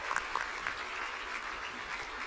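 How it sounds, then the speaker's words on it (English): Audience applause fills an Emmy awards ceremony hall for a news journalism event, a steady, moderately distant clapping that runs evenly for a couple of seconds with no voices on top. "how about a round of applause for Teresa's leadership"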